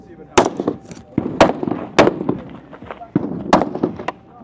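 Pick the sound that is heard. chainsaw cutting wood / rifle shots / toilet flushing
rifle shots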